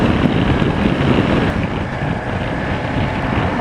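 Rider on a BMW motorcycle gets a loud, steady roar of wind blast buffeting the upper shoulders and head at speed, with a constant low rumble and no speech.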